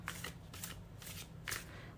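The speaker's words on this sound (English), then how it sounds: "Let's first shuffle with intention." A tarot deck shuffled by hand, several quick riffling bursts of cards, close and clear with no talking.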